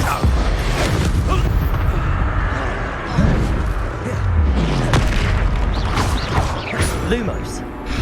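The Expulso explosion spell cast in a wizarding action game: loud booming blasts and crashing impacts over continuous combat noise, with a voice speaking and shouting spell names over the action throughout.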